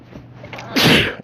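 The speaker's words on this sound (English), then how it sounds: "And I also sneeze really good too." A single close sneeze: a short breathy intake building into one loud, explosive burst.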